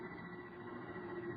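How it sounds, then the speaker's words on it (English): Generators building up power to drive an atomic motor by remote control, a steady low electrical hum and rumble holding at an even, moderate level without pause. "The sound you hear is our generators here, building up power to supply the motor by remote control."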